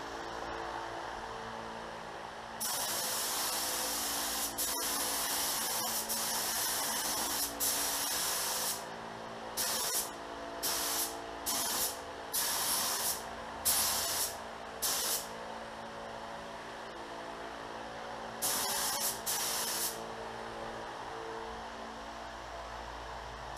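A spray gun lays base coat paint on a 2017 Indian Chieftain motorcycle, starting as a long continuous hiss, then breaking into repeated short bursts with brief pauses between passes.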